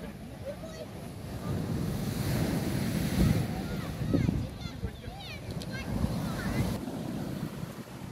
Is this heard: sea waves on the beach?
yes